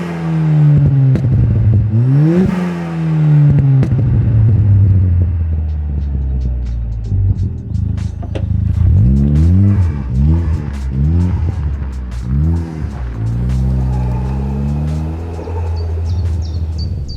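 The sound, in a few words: turbocharged Ford Fiesta ST driving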